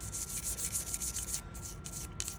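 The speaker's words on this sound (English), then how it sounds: "So what I want to do is I just want to start scrubbing" A brush scrubs inside the slide of a Glock 19 pistol during cleaning, giving a soft, close, rapid rhythmic rubbing, quiet and steady with brief pauses near the end.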